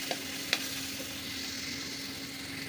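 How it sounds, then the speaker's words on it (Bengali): Garlic and onion fry lightly in a pan with a steady, soft hiss, broken early by a couple of small utensil clicks, with no voices. "রসুন আর পেঁয়াজটাকে আমি হালকা করে ভেজে নিব"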